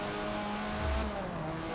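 A car engine whines at high revs during a Forza Motorsport 7 race, a vintage sport compact's steady tone that rises and falls as it shifts, with a brief low thump midway.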